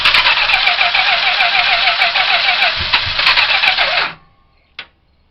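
A 1973 Plymouth Fury, with gasoline poured into the carburetor bowl, cranks over loudly in a rapid rhythmic churn for about four seconds. The cranking then cuts off abruptly, followed by a single short knock.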